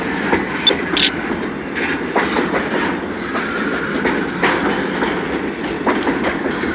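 A Poland Spring water freight train rolls past at night in Lewiston, Maine, with steady rumbling and rhythmic wheel clatter over rail joints, close and continuous throughout, plus occasional brief squeals.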